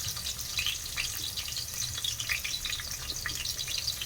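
Chopped onion frying with cumin in hot oil inside a pressure cooker for veg pulao, a steady close sizzle with crackling pops and occasional stirring scrapes, no voices.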